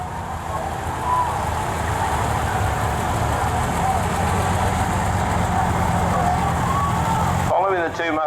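Vintage Massey Ferguson 65 tractors rumble past steadily at a show parade, a continuous engine drone with crowd noise around, ending with a brief burst of speech.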